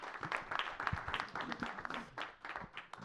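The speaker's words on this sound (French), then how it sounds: "On peut l'applaudir." Audience applause after a conference talk at a forum on the Alps 2030 territory, a moderate patter of clapping from a seated crowd with a few sharper claps, lasting the whole stretch at a fairly steady level.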